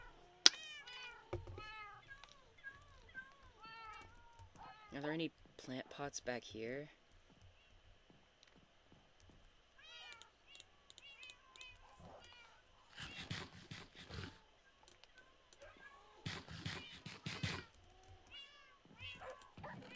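Repeated cat meows in Minecraft, several short calls scattered throughout alongside bursts of game noise, with a person talking over parts of it.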